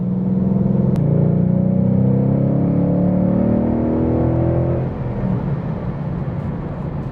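A stock 2018 Mustang accelerates hard in third gear, its loud engine note climbing steadily for about five seconds before the throttle lifts and the sound falls to a lower, rougher drone.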